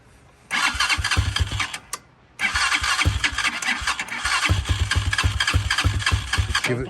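Hawk 250 motorcycle started with the throttle held slightly open: a brief starter whir, a short stumble and gap, then the engine catches and settles into a loud, close, steady idle with pulsing beats.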